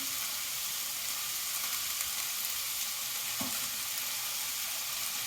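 Minced beef browning in a frying pan, a dense, even sizzle that holds steady throughout, with one brief scrape of a utensil partway through.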